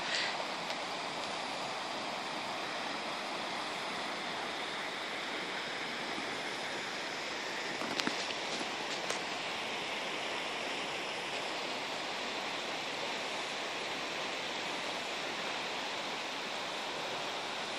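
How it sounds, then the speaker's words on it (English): The Little Wenatchee River rushes over rocks in a steady, full broadband roar, close and unbroken throughout, with a brief faint knock partway through. "Yep, that's the water."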